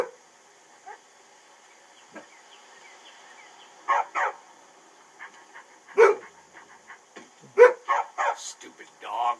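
In the video game Skyrim, a dog barks repeatedly in clustered bursts, some sharp and loud, others softer, against a quiet steady game ambience, with a few faint clicks between barks.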